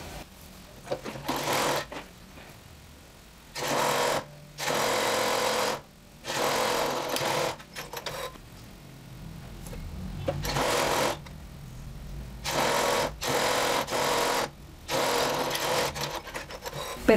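A sewing machine runs in several steady bursts with short pauses between them while it stitches the shoulder seams of a blouse, close and fairly loud.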